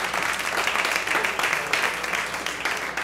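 Comedy club audience applauds a comedian on a Thursday night, dense steady clapping with scattered cheers filling the room at close range for the full stretch.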